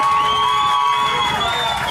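A crowd at a party show on a yacht cheers and whoops loudly, high excited voices and shouts blending into a dense roar, with little distinct clapping.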